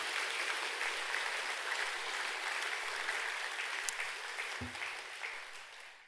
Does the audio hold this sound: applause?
yes